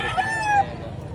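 A rooster crows once at a poultry sale in Padre Garcia, Batangas, a single drawn-out call standing out over a low murmur of background noise.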